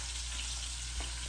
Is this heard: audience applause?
no